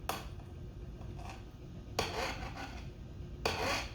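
Antifreeze coolant stirred by hand in a container, a soft scraping, rubbing swirl with a few louder sweeps near the end, close and alone with no talk.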